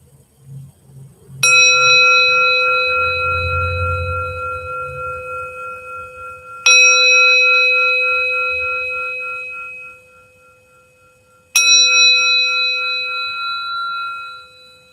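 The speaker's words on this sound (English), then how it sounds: "Now, while I ring the bell," A meditation bell is struck three times, each strike a clear bright ring that sustains and slowly fades before the next, spaced several seconds apart in a quiet room.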